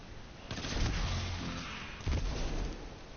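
Gunfire from an exotic weapon in the video game Destiny 2: loud, booming shots in two heavy bursts, near and up front, with a low rumbling tail after each.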